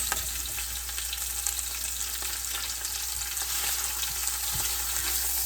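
Small potatoes go into a pot where a pot roast is browning, giving a steady, close, crackling sizzle with light stirring scrapes and a low background hum, no voices.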